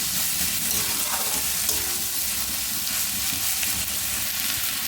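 Potatoes with ground onion paste frying in a pan for prawn-stuffed potol dorma, a steady dense sizzle throughout with faint stirring scrapes, close and fairly loud, no voices.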